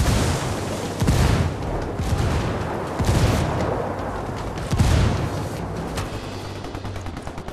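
Explosive blasts and gunfire rumble in a Ghost Recon Wildlands firefight after a grenade is thrown, with several heavy booms rising out of a continuous noisy battle backdrop.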